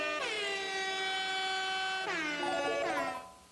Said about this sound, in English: I didn't get the sad air horn, as you guys can hear